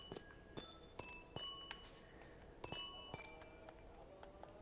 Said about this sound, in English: That sounds just like clinking of glass.